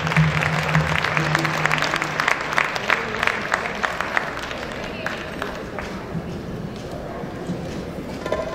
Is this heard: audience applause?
yes